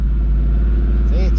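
A Ford F-150 engine is floored but held at a preset RPM, giving a steady, deep, sustained rumble close by, with someone talking over it.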